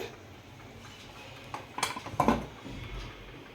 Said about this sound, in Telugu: మూత ఓపెన్ చేస్తున్నాను.